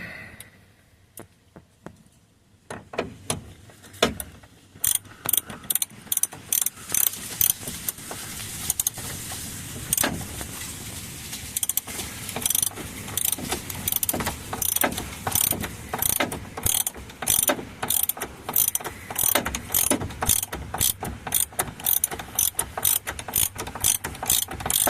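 A ratchet tightens a screw during a tow/haul stalk switch repair on a 2002 GMC Sierra, producing rapid close clicking bursts that repeat in a steady rhythm for the whole stretch.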